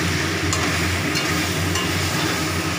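Papaya pieces are sauteed and stirred in a pan, a loud, continuous close-up sizzle broken by a few brief scraping sounds from stirring.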